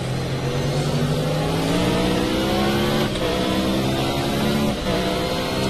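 A race car engine screams steadily in the Project Cars video game, loud and continuous, with rising and falling pitch through gear changes and no voices.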